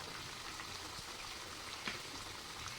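Chicken kabab pieces fry in oil, laid in separately, with a faint, steady bubbling sizzle and an occasional soft pop, with no talk.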